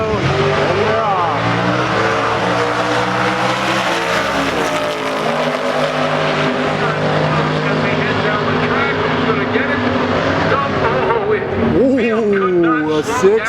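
A Ford Y-block T-Bird hot rod launches in a C-Gas drag race at the California Hot Rod Reunion, a loud sustained engine roar rising through the gears with a second car alongside and crowd noise, ending in a sharp tire squeal.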